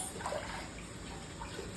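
Tap water runs in a steady, even stream, a continuous hiss-like flow close by with no talking over it.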